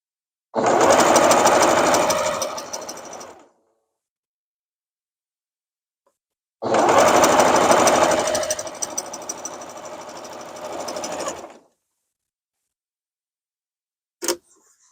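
A sewing machine stitches pieced quilt block fabric in two loud, close runs of rapid whirring, each a few seconds long, separated by silence, with a brief click near the end.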